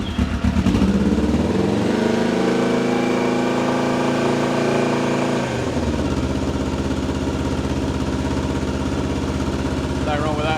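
A 2011 adventure motorcycle with an aftermarket silencer runs loud and close with a steady throbbing engine note. The tone changes roughly halfway through as it settles, and voices can be heard over it.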